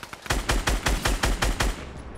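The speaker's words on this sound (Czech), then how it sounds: "Zleva někdo střílí." Gunfire in a Fortnite Battle Royale match, a rapid burst of about nine sharp shots in an even rhythm, loud and close, then tailing off into quiet.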